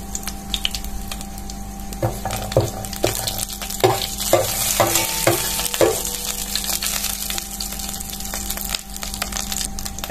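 Cumin seeds sizzle in hot mustard oil in a cooking pot, a steady close crackle broken by several sharp stirring scrapes and knocks in the middle, with no talking.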